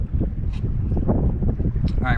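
Strong wind buffets the microphone on open water during a winter fishing outing from a boat, with whitecaps around it. The rumbling gusts are loud, constant and close, and there are brief hints of a voice.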